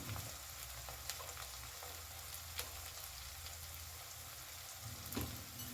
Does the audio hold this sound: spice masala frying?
yes